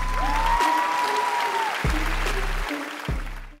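Studio audience applause for a rap team on a Vietnamese televised rap competition show, a dense steady clapping wash lasting about three seconds, with a sustained tone and low music pulses underneath.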